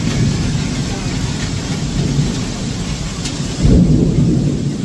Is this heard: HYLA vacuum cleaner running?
no